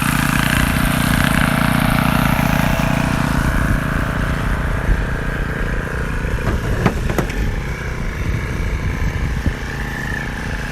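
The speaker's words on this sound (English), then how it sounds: "there's my son joyriding on the lawnmower." A steady engine drones loudly and continuously, like a riding lawn mower running close by, with a few sharp knocks and clicks partway through.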